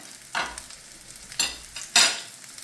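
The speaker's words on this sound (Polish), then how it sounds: "czy kotleciki są usmażone" Chopped meat cutlets fry in oil in a pan, with three separate bursts of sizzling rising over a quiet background hiss. No one speaks.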